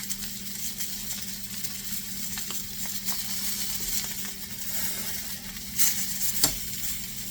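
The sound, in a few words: rib eye steaks searing in a pot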